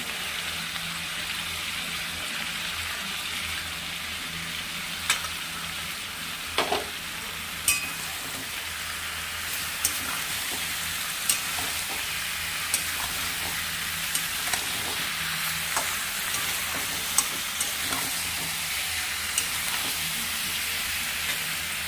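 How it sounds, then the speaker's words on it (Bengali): Spice masala is stirred into jackfruit curry frying in oil: a steady sizzle runs throughout, broken by brief scrapes and knocks of a spoon against the pan every second or two, with no one talking. "এইবার আমি এই যে মশলাটা আছে এই মশলাটা দিয়ে দেবো"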